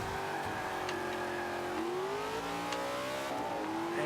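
A 2015 Ford Mustang GT, upgraded to almost 900 horsepower, in the racing game Forza 5, its engine revving steadily through gear changes, loud and continuous with a rising then falling whine.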